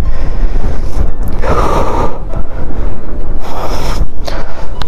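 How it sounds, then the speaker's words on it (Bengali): Strong wind buffeting the microphone outdoors at a scenic viewpoint, a loud continuous roar with gusty rises and dips, no talking. "প্রচন্ড হাওয়া"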